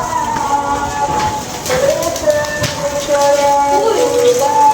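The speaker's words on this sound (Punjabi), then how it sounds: "ਬਾਰਿਸ਼ ਹੋ ਗਈ ਹੈ" Heavy rain pouring steadily outdoors near a pigeon loft, a broad wash of rainfall with tonal whines and clatter mixed in and voices talking over it.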